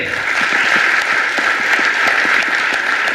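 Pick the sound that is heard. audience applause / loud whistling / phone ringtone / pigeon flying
audience applause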